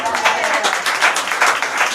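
An audience in Rivignano applauds the mayor, a dense, continuous patter of many hands clapping at close range, with voices mixed into the crowd noise.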